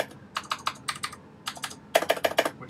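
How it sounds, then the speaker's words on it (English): Typing on a Razer BlackWidow Ultimate mechanical gaming keyboard that had liquid spilled into it, close-up clacky keystrokes in quick irregular bursts, with a sharper, faster run of strikes near the end. "which sounds a little bit different now, it's a Razer Black Widow Ultimate, I think."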